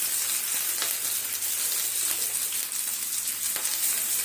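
Okra fries in oil in a pan with a dense, even sizzle that stays loud and constant throughout, with a few faint stirring taps and no voices.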